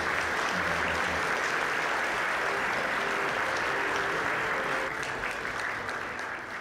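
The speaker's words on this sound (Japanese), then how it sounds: "どうぞ壇上の2018年度優秀選手賞受賞者の皆様に今一度盛大な拍手" A large audience at a boxing awards ceremony applauds the year's outstanding-player award winners on stage, a steady, full wash of clapping that holds throughout and fades slightly at the end.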